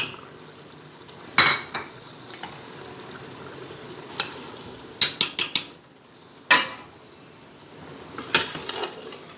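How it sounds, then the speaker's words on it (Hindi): A metal spoon stirs frying masala in a pot after potatoes and peas go in for a chicken aloo matar curry, giving irregular close clanks and scrapes over a faint sizzle. "मसाला हमारा भुन रहा है तो यहाँ साथ ही आलू और मटर ऐड कर देते हैं"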